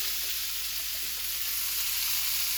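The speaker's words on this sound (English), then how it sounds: "I'm just gonna take those veggies and just dump them right down in there" Vegetables fry in melted butter in a hot pan for corned beef hash, giving a dense, steady, close hiss that stays even throughout with no talk.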